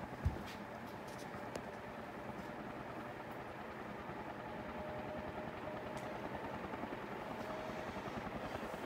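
A Hunter bath and dressing room ceiling fan running in a display, producing a steady low hum and drone with faint ticks throughout, no speech.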